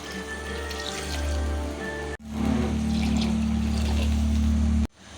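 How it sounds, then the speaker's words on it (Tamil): Water pours steadily into a pot with a gurgling, filling sound, broken by a brief stop partway through before pouring resumes. "தண்ணி ஊற்றிக்கலாம்"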